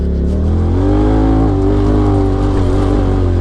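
A Polaris RZR XP Turbo side-by-side shifts into high gear and accelerates on a dirt forest track, a loud, close engine roar that climbs steadily in pitch and holds full volume throughout.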